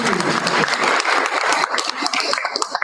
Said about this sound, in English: Another round of applause for our smallest school.